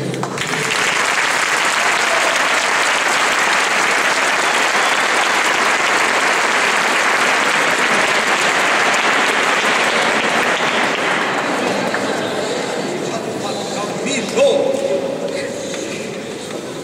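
A cathedral concert audience claps loudly in a long, dense wash of applause that gradually thins out and fades toward the end.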